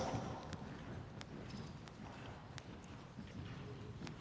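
A horse cantering in a dressage arena, hooves thudding in a steady repeating rhythm at moderate distance, fairly faint over a low background rumble, with no talk heard.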